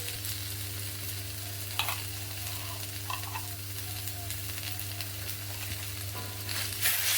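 A paste of ground mustard, poppy seeds and sesame added to a frying pan, giving a steady, even sizzle with a few soft stirring scrapes and a low background hum.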